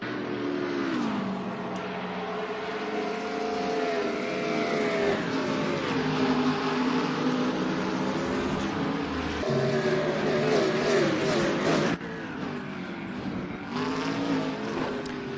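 Race cars lap a circuit with engines whining and revving at high pitch. Cars pass in overlapping waves at a steady, moderate loudness, with the pitch rising and falling as each car goes by, and no talking.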